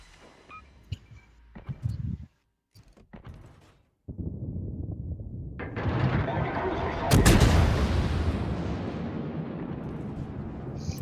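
Naval gunfire in a Zao warship battle game: scattered short booms, then a heavy, loud salvo with a long rumbling tail.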